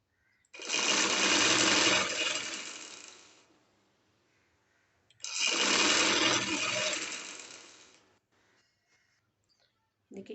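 Two long bursts of rapid, steady stitching from a sewing machine sewing a strip onto a trouser hem, each lasting a few seconds and separated by a pause, close and loud.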